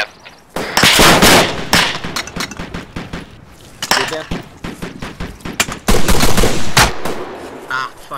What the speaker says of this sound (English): Taking fire from the east again.